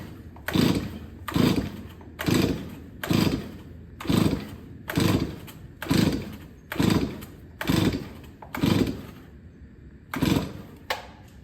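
A Stihl 024 Wood Boss chainsaw on full choke is pull-started about ten times in a steady rhythm, each rasping recoil pull and cranking whir clearly heard up close without the engine ever firing.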